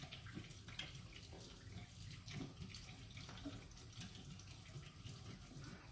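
Tap water runs steadily from a faucet while soap is rinsed out of a hairbrush at a sink, a continuous close wash of splashing with no talk.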